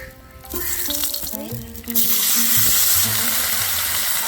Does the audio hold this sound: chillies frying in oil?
yes